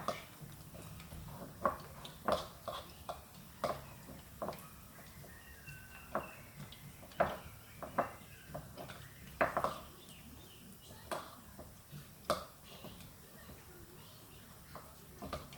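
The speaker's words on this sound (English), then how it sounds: "start smashing it up. I'm going to use the back of a spoon." Fried plantains are smashed with the back of a spoon, producing a series of soft, irregular taps and clinks of metal against a dish. The hits are quiet and close, with a faint voice underneath.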